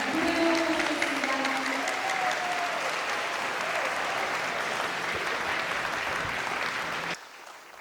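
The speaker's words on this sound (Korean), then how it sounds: "큰 박수로 환영해 주시기 바랍니다" A lecture audience gives loud, sustained applause to welcome a guest speaker. The steady crowd clapping lasts about seven seconds and then cuts off abruptly.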